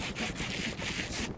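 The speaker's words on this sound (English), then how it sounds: "Making some sandpaper and sanding it." Steady rhythmic scraping of sandpaper in a video game, rubbed back and forth over a surface, repeating in even strokes with no voices.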